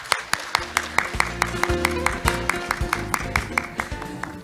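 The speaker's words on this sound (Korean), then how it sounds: "박수 부탁드립니다." An audience at a health forum claps in a steady, even rhythm, crisp regular beats about four per second, layered over sustained background music.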